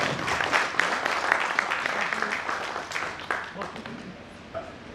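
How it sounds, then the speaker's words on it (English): An audience gives a round of applause for presented conference papers, with steady dense clapping throughout and a voice talking over it. "So a big round of applause for them"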